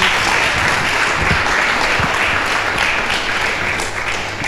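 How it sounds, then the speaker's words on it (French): Audience applause at a youth forum's first-anniversary event, a dense, steady wash of many hands clapping that holds loud and even throughout, with a slight fade near the end. "On va vous raccompagner par des applaudissements."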